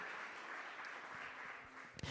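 A church congregation applauds, a steady wash of clapping held at a fairly low, even level for about two seconds, with a couple of sharper claps at the end.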